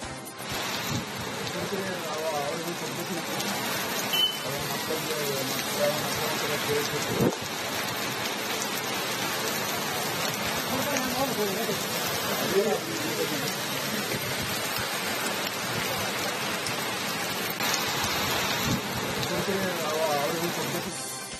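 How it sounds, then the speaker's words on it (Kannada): Heavy monsoon rain driven by wind pours steadily in the hilly Malnad region of Chikkamagaluru near Charmadi Ghat, a dense continuous roar of drops on surfaces throughout, with a voice speaking over it. "ಚಾರ್ಮಾಡಿ ಘಾಟ್, ಕೊಟ್ಟಿಗೆಹಾರ, ಬಾಳೂರು ಸುತ್ತಮುತ್ತ ಭಾರೀ ಮಳೆ ಆಗ್ತಾ ಇದೆ."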